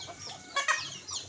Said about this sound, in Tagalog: So ganito na lang yung yung mga manok dito na natitira.